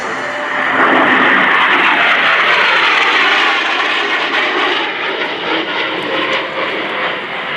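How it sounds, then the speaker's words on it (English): An AV-8B Harrier II jet roars loudly at an air show while slowing from high speed toward a hover, a broad sustained jet wash that swells then eases slightly. "He'll be decelerating the aircraft from about 500 knots all the way down to 0 and coming in for the hover work after the brake"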